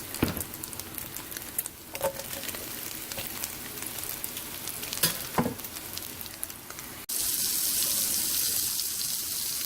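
Bacon and mushrooms frying in a pan for a steak dish, a steady close sizzle and crackle with scattered pops, running continuously and rising to a louder, hissier sizzle in the last few seconds.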